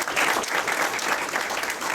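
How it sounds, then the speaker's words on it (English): An audience at a VFW awards ceremony claps steadily for the teachers, a dense, even round of applause filling the room without pause. "I'd like to give a round of applause to all of the teachers that encouraged this program"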